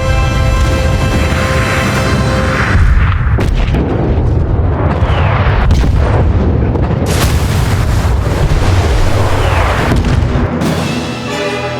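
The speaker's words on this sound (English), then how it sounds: "The first salvos were heard." Artillery salvos boom again and again in a naval battle involving the Russian cruiser Varyag, loud and continuous, with heavy blasts and rumbling explosions overlapping and no voices.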